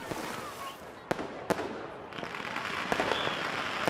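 Fireworks bursting over an amusement park at night, sharp cracking bangs at uneven intervals over a dense, steady rumbling crackle from many shells.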